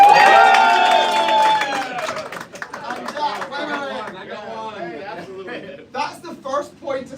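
A live comedy show audience cheers and whoops loudly at first, then the noise fades into scattered chatter and laughter as someone speaks over it.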